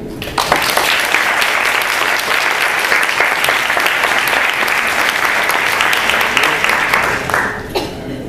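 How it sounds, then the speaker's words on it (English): A student government assembly breaks into loud, sustained applause that holds steady for about seven seconds, with faint crowd murmur and a light chuckle mixed in, before cutting off sharply. "So just for that reason, I want to give another round of applause."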